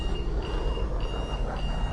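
A missile lock-on warning in the Ace Combat flight game sounds as a steady high electronic tone pulsing in three evenly spaced beeps over a dense roaring engine drone.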